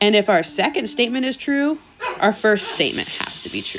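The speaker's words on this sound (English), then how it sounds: "you can hear my dog barking in the background of this video" A pet dog barks a few times in the background of a home room while a person talks steadily over it, the yips faint and partly masked by the voice.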